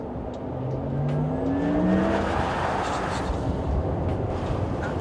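A Porsche Taycan 4S electric car accelerating hard, a loud sustained whine and road roar with rising tonal sweeps, no talk over it.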